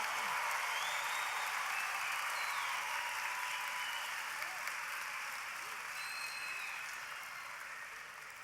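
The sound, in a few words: graduation ceremony audience applauding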